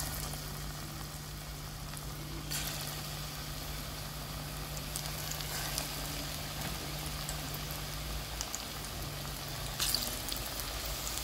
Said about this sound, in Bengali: যাই হোক, আমি এগুলোকে ফ্রাই করে নেবো।